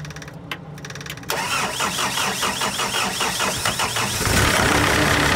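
A CAT 272 skid steer cranks and its engine catches after an alternator install, then settles into a steady, close mid-pitched idle that swells louder near the end.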